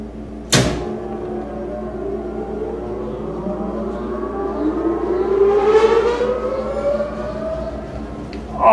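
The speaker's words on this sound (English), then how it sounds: "Listen to the three-phase startup sound of this fan." A three-phase electric fan motor starts with a sharp click, then whines upward in pitch as it spins up, the steady hum growing louder over several seconds.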